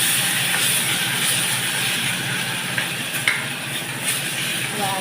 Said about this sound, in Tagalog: Lagay na natin yung ating kamatis dahil nag-brown na ang aking sibuyas